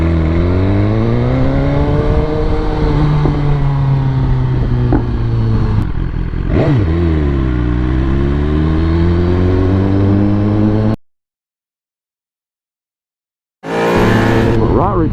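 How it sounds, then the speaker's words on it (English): A Ferrari 488 accelerating past on the road, a loud engine note rising and sweeping in pitch through the gears, heard near and over wind, cutting out briefly before returning. "Ferrari, baby. A 488 out here."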